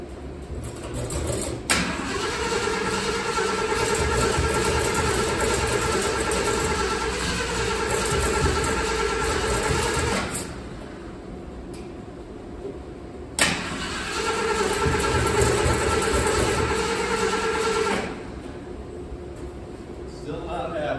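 A 1976 Ford F150 XLT SuperCab barn-find truck, fed by a gravity fuel tank, runs loudly and steadily in two long stretches separated by a brief lull and a sharp restart.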